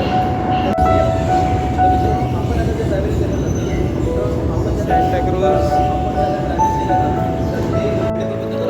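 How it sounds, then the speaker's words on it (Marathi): A Mumbai Metro Line 3 underground train rumbles steadily as it pulls away from JVLR station, with faint metallic squeals and tones over the low roar. "तर मित्रांनो ट्रेन रवाना झालेली है"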